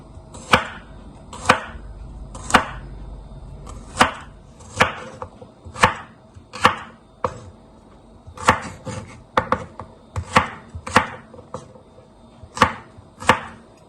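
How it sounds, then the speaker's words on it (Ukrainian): A knife slices garlic on a cutting board in steady, separate chops, about one per second, crisp and close, with no talking. "Я нарізаю наш оцей чеснок, що начистили, нарізаю такими дольками."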